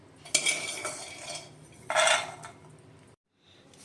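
Roasted peanuts scraped out of a hot pan with a metal spoon, two bright bursts of rattling and scraping close by, then a short silence and a faint clink.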